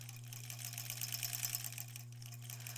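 A sewing machine stitches fabric strips together for a scrap quilt, a fast, even mechanical chatter with a steady motor hum underneath, close and alone for a few seconds.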